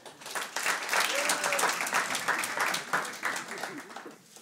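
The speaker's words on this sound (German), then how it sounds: "Dann einmal klatschen für den Vogelschiss." Comedy club audience at a German stand-up show claps in a full, continuous burst of applause that stays loud throughout and eases slightly near the end.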